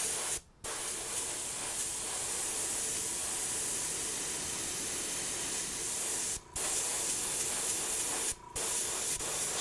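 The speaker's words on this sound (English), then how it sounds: "I'm gonna try to spray it where I'm not hitting directly at the sock liner." Paint spray gun hissing steadily as it fades color onto an Air Force 1 sneaker, a loud continuous airy spray broken by three short pauses, with no talking.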